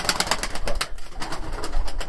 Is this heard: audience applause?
no